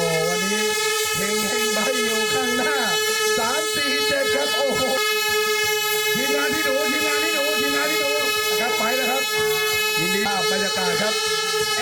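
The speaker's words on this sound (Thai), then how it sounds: "สัญญาณแตรมาครับท่านรองครับ สัญญาณมาครับ" A long, steady horn blares continuously at the start of a Bike 4 All charity cycling race at Krasiao Dam, Dan Chang, Suphan Buri, held under an excited announcer talking over a loudspeaker.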